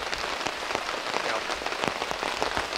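Rain patters steadily onto camp shades outdoors, a dense, loud, continuous drumming of drops with scattered sharper hits, no talking.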